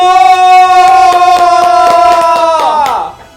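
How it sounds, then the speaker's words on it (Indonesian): Applause for the class 11B representatives at a red-and-white fashion contest: loud, steady rhythmic clapping under a sustained cheering voice, fading out at the end. "Beri tepuk tangan sekali lagi untuk perwakilan dari kelas 11B, Rafin dan Feli."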